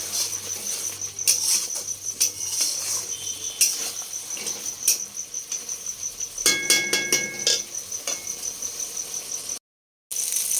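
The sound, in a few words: stirring potatoes frying in a pan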